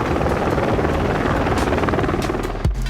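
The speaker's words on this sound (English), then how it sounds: "In the sky, it's a helicopter, easy." A helicopter flies overhead in an esports video game match at the Atlanta Major grand final, with a loud, steady rotor roar filling the whole stretch before a sudden low thump near the end.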